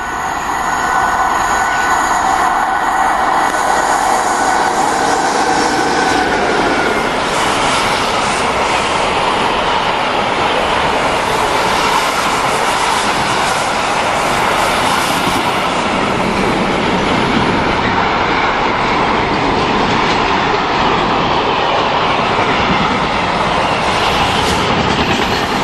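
A royal train hauled by four class 86 electric locomotives passes Long Buckby, its carriages rumbling steadily and wheels clattering loud and close for the whole stretch, with no voices.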